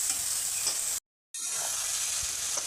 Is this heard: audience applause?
no